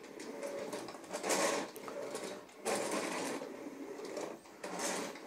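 Bissell Sturdy Sweep carpet sweeper pushed over carpet in three rolling passes, each a swelling whirring brush rumble with brief dips between strokes.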